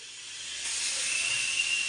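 Onion and garlic paste hits a hot pan with a steady, bright hiss that swells partway through and keeps sizzling evenly, close and fairly loud.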